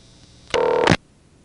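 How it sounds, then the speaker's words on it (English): A 1970s payphone line on local coin control, with a short bright telephone tone bursting in for about half a second, then abruptly cut off, over a quiet line hiss. "Way off in the background, you may have heard the tone that actually answered this number."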